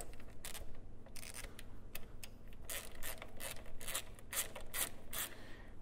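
Ratcheting clicks from an 8 mm Allen key bolt being loosened high on the cooling system of a WJ Jeep Grand Cherokee 4.7L during a water pump change, with a steady run of close, crisp mechanical clicks over a low hum.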